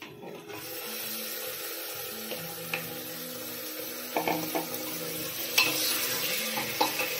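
Mutton added to golden-brown fried onions in a home kitchen pan sizzles softly beneath the clatter of a spoon stirring, with several sharp scrapes and knocks against the pot over a low frying hiss.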